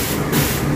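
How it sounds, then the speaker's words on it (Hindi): High-pressure spray gun at a car wash blasting water in a loud, steady broadband hiss, close and continuous with a brief surge in the middle. "ये वाली ये स्प्रे गन है"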